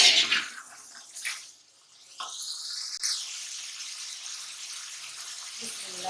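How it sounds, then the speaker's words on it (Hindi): Water pours into a pot of browned rice and chickpeas for chana pulao, a soft splashing gush near the mic that starts after a short pause and runs steadily to the end. "अब इसमें पानी डाल देंगे।"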